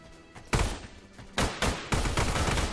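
Gunfire crackles through the dinosaur survival shooter Orion Dino Horde: several loud, close bursts of shots come in quick clusters, separated by short lulls.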